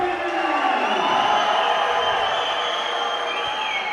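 A home crowd at a youth judo competition in Tbilisi keeps up a steady, dense roar of cheering and shouting that fills the hall without pause.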